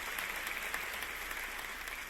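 Steady, dense applause from a crowd at the 2023 faculty convocation fills the whole stretch at moderate volume, with no voices.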